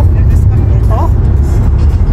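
Fast traffic on a wide California freeway makes a steady, loud roar and rumble that never lets up.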